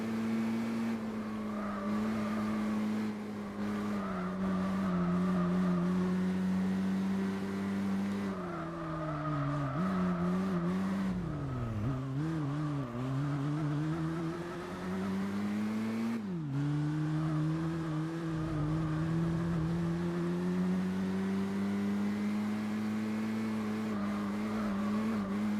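A race car in Gran Turismo 4 holds a continuous engine drone that dips and climbs as it brakes and accelerates through corners, with tire squeal in places and no talking over it.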